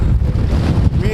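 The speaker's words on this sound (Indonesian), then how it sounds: "Dingin banget, anginnya kencang." Strong, cold wind in Iceland buffets the microphone in a steady, loud low roar, with gusts swelling and dipping throughout.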